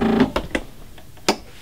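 Sewing machine stitching silk fabric with a back stitch, heard as a few short mechanical bursts, close and fairly quiet, with brief pauses between the stitches.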